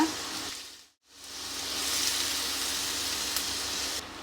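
Potatoes dropped into hot oil already crackling with mustard seeds and urad dal: a moment of near silence, then a steady, even sizzle that holds to the end.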